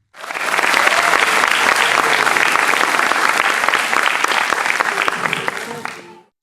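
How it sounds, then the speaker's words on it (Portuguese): Sustained applause from an audience, steady and dense clapping lasting several seconds before fading out at the end. "Vamos aplaudir o Senhor."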